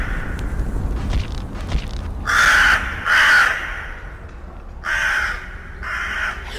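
Crow caws in the Rec Room VR horror game: four loud, harsh calls in two pairs, standing out clearly over a low, steady background rumble.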